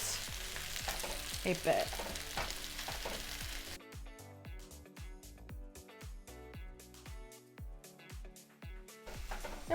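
Spinach leaves fry and wilt in a pan over medium heat, a steady soft sizzle running throughout with repeated light clicks and taps of stirring, close and moderately loud, with a brief murmur of speech near the start.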